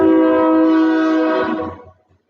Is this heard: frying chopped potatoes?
no